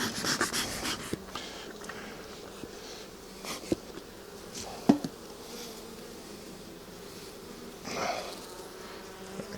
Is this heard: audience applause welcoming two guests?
no